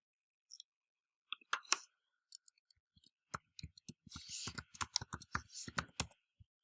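Computer keyboard typing in short irregular bursts of crisp clicks, close and fairly quiet, with brief gaps between the runs of keystrokes.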